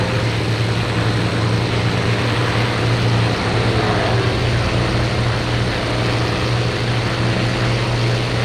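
Propeller fighter plane engine in a flight combat video game, with a Bf 109 in the scene, droning loud and steady with a constant low hum throughout.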